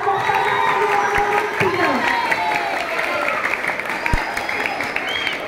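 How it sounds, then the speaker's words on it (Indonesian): Students at a school student council candidate debate applaud and cheer, a continuous crowd roar with voices and shouts mixed into the clapping. "berikan tepuk tangannya meriah"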